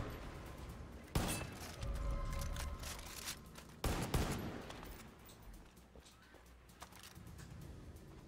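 Two sharp gunshot blasts ring out a few seconds apart in Far Cry 5, followed by sustained rumbling gunfire and echoing noise.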